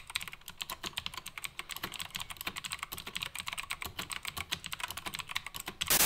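A full-size gaming mechanical keyboard with a number pad is typed on rapidly, a dense, continuous clatter of close keystrokes with no voices.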